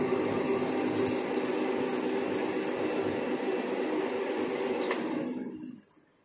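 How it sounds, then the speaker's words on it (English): A lathe knurls a metal workpiece that has been oiled between the knurling tool's rollers, giving a steady whirring, grinding hum. The sound holds constant, then dies away near the end, with no speech over it. "lubricant oil on the surface of the workpiece and between the rollers of the knurling tool."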